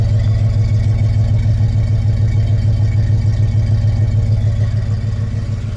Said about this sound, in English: And that was quieter than my old exhaust.